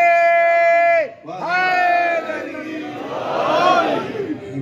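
A loud held cry from one voice, then a crowd answering in a swelling shouted chant at a religious celebration in a hall, rising to a roar at the end.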